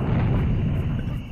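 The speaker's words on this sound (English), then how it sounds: "A cannonball's coming out, whether you like it or not." Cannon in the video game Serious Sam firing a cannonball, heard as a sustained, dense low rumbling blast that stays loud and steady for over a second with no pause.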